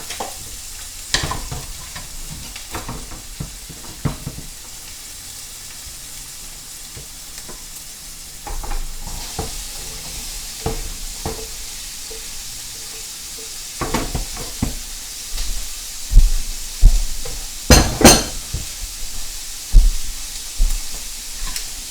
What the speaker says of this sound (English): You're going to hear a sizzle.